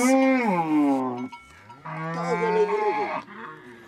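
Cattle in a Maasai village give long, loud, close moos in two drawn-out calls, the second wavering in pitch, with no voices over them.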